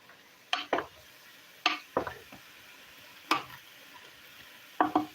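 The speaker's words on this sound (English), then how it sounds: "I'm gonna give this a stir." A spoon scrapes and clatters as vegetables are stirred in a pot of zucchini stew, making about five separate close stirring strokes with quiet gaps between them.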